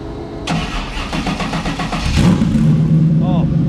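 A Ford Mustang on a dyno cranks and fires, a burst of starter whir settling into a steady, loud idle with a brief rev, people talking nearby over the engine.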